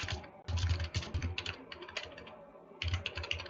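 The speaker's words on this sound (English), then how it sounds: "Let me type here." Fingers typing on a computer keyboard during a live JavaScript coding session, a close, quick patter of key clicks in two bursts separated by a short lull, with no talking.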